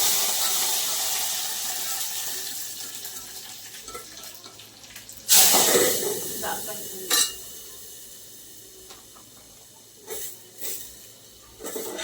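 Water poured into an emptied oil packet in a home kitchen while cooking bitter gourd: a brief gurgling splash in the middle, then a few short crinkles and splashes over a quiet background.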